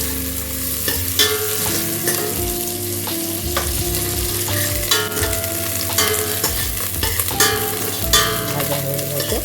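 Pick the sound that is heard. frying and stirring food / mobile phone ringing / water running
frying and stirring food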